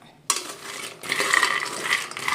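Dry fruits are roasted in a pan and stirred, giving a close, dry rattling and scraping that starts suddenly and carries on in steady bursts.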